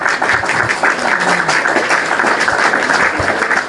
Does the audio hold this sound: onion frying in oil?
no